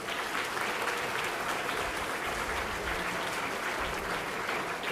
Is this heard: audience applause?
yes